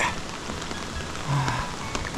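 Steady rain falling during a walking pilgrimage on the Shikoku 88-temple route around Kumakogen, a continuous close patter on surfaces with a few soft sounds over it, no clear speech.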